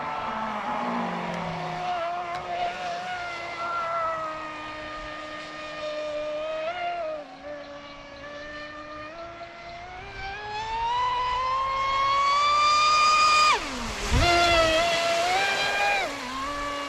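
A Proboat Impulse 32 RC boat makes a high-speed pass on the water, its electric motor whining in a steady pitch that rises, peaks loudly as it sweeps close with a sharp Doppler drop, then carries on.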